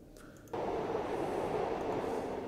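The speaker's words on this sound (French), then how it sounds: "Donc tu vois quelques trains passer" Trains passing as an ambient effect in a Cthulhu tabletop role-playing session: a steady, dense rumble of rail cars rolling past fills the clip after a brief quieter start, continuous and moderately close.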